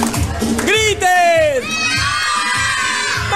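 Children shout and scream together at a birthday party, loud overlapping high voices rising and falling in excited bursts, with an adult voice heard among them.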